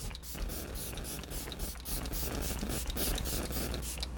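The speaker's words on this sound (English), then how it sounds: "So we're going to use the Tarte Stay Spray." Tarte Stay Spray setting spray is misted onto a face in a string of short, soft, hissing bursts, quiet and close, with no talking.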